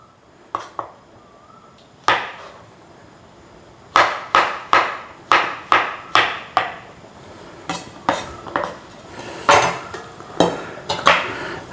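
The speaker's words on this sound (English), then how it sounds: "Now you can slice these as thick or as thin as you want" A knife slicing mushrooms on a cutting board, a series of sharp close knocks as the blade hits the board, coming in irregular quick runs with short pauses between.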